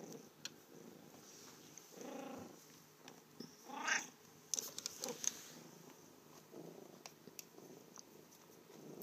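A cat purrs up close in a quiet room, a soft rumbling drone broken by a few brief meow-like calls and small rustles.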